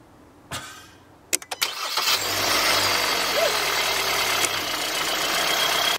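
A car engine brought to life with a jump starter: a few sharp clicks and cranking bursts, then the engine catches and settles into a steady, fairly loud idle close by.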